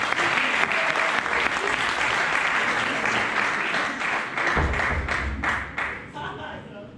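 Audience applause at a trail race welcome conference, dense steady clapping from a crowd indoors, loud throughout and thinning toward the end.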